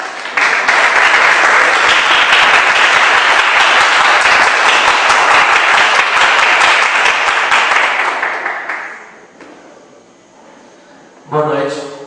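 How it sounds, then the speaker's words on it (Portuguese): A church congregation at an evening service bursts into loud, sustained applause for about nine seconds, dense and even, before fading out; a few quieter moments follow and a single voice starts to speak at the end. "Então vamos receber, aplaudindo e glorificando o nome do Senhor."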